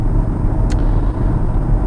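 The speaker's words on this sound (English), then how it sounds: "Now on startup it does burble a bit more than the S3" A BMW M135i engine burbles at startup with a deep, loud, steady rumble heard close up, and a brief high tick partway through.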